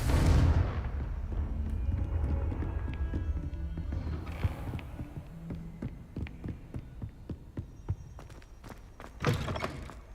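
A Confringo spell explosion in Hogwarts Legacy opens with a loud, booming low-end blast that fades into rumbling, followed by a series of sharp thuds and impacts from in-game combat.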